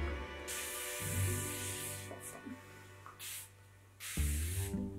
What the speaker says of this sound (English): So I'm just gonna do like a quick little spritzy spritz.